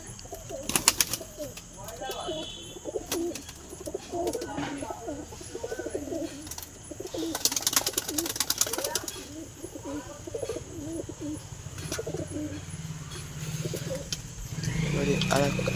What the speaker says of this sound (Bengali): একটা পায়রা বাইরে বেরিয়ে গেছে